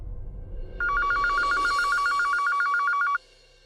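A landline telephone rings with a rapid trilling electronic bell, one steady burst lasting a couple of seconds over low background hum, then stops.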